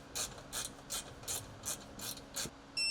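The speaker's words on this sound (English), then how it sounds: "Now install the 2 kept screws at the front of the seat base." Screws are driven into a Polaris Xpedition seat base, a quiet, close, rhythmic ratcheting of seven evenly spaced clicking bursts with no talk.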